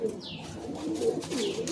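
Pigeons at a loft of sky-flying pigeons coo softly in low, murmuring pulses, with a brief higher call near the start and more cooing layered through, close and steady.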